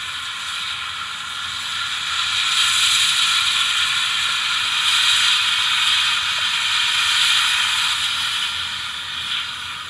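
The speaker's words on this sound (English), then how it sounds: "F17 are the safety valves." Safety valves lifting on a GWR Manor steam locomotive, from an Accurascale model's sound package: a steady, loud roaring hiss of escaping steam that holds for about ten seconds, swelling slightly in the middle, with no other sounds.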